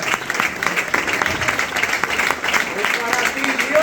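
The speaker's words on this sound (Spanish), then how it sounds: "Vamos a dar un aplauso a Cristo, que Él se lo merece" A church congregation claps together in a steady, dense rhythm at a worship service, loud and close, with voices and music faintly underneath throughout.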